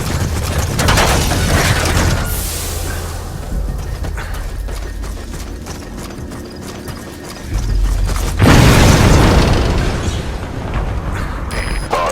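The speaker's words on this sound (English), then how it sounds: "Did you see that explosion?" Explosion in a Metal Gear video game as a vehicle crashes, heavy booming bursts near the start and again around eight seconds, loud and close, with mechanical rattles and clatter between them.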